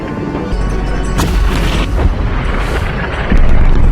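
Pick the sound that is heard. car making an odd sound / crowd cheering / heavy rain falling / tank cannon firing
tank cannon firing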